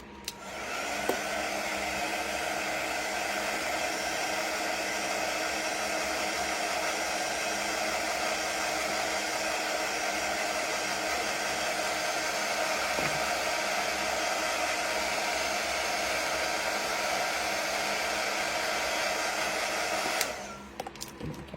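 A hair dryer runs steadily and loudly for about twenty seconds, drying chalk paste on a rustic round fall door sign, then cuts off at the end.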